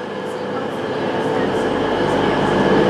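A Class 221 Voyager diesel train, unit 221124, rumbles steadily at Bournemouth station on the South West Main Line, a loud continuous engine drone that swells gently, with faint rhythmic clicks and no speech.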